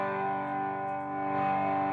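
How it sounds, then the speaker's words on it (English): Electric guitar run through an MXR Distortion+ pedal with the distortion knob at twelve o'clock, giving a steady, sustained, harmonically rich tone that holds loud and even for the whole stretch with no talk. "as I crank up the distortion,"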